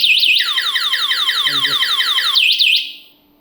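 An electric four-wheeler's anti-theft alarm goes off when the wheel is turned while locked: a loud, rapid warbling electronic chirp repeating steadily for about three seconds, then cutting off.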